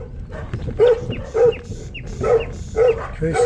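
A village dog in Kızılcaali near Çatalca, Istanbul, barks repeatedly, about five loud, close, gruff barks in quick succession.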